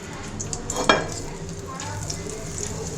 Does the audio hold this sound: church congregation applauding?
no